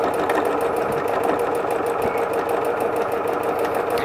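Sewing machine stitching a fabric pocket onto a Civil War style housewife sewing kit, a steady, fast, even mechanical clatter running continuously at close range.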